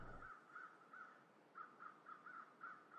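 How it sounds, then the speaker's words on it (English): Crows caw in a foggy video game world, a series of about nine evenly spaced, thin, faint calls repeating in a steady rhythm after a short low rumble at the start. "There's definitely some crazy crows."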